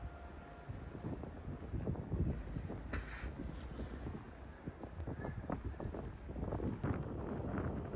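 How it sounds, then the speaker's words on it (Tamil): Constant roaring wind from a -20°C snowstorm in Iceland buffets the microphone in steady gusts, loud and unbroken for the whole stretch, with no voices. "கிட்டத்தட்ட 15 மணி நேரத்துக்கு முன்னாடியே ஆரம்பிச்சிச்சு இந்த ஸ்னோ ஸ்டார்ம்"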